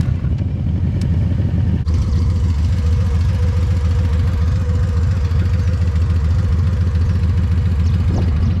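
A Kawasaki 1800cc superbike engine idles close by with a steady, deep low rumble and fine mechanical clatter throughout, loud and unbroken.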